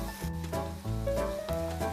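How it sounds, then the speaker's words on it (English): Onions frying in hot oil in a pan for kung pao chicken, a steady close sizzle with some stirring scrapes, no talk. "fry it until golden brown."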